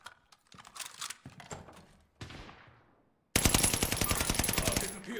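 Rapid automatic gunfire in the battle royale game Warzone: a dense, loud sustained burst of shots in the final two seconds, preceded by scattered single shots and a fading blast.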